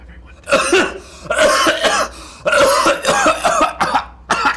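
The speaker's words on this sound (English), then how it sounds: "Persistent cough." Repeated harsh coughing fits, close and loud, in several bursts separated by brief pauses.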